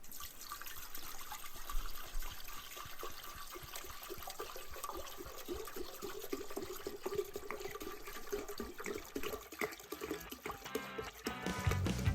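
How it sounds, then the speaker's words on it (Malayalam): Low wines pour into an air still for distilling baijiu, a steady, close liquid rush and splash that swells near the end. "അപ്പോൾ ഇതിലേക്ക് നമുക്ക് ഇരിക്കുന്ന ലോ വൈൻസ് ഒഴിക്കാം."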